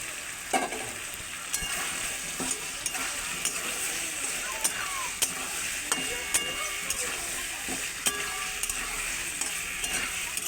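Fried potatoes and pointed gourd tossed into sizzling spices for a vegetarian curry, with a steady crackling fry and repeated sharp clicks of a spoon scraping and stirring the pan.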